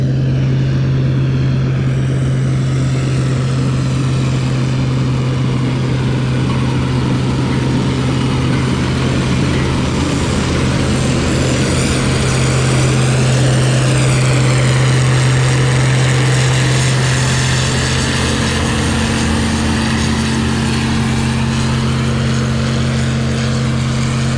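A loud, continuous mechanical roar of a CASE 1660 combine harvester threshing wheat, with a steady engine drone and rushing, churning noise, unbroken throughout.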